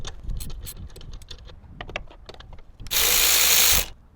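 A ratchet with an 11/16 socket tightens the mounting bolt of an off-road pod light, heard as a string of close clicks followed by a louder, steady one-second whirring burst near the end.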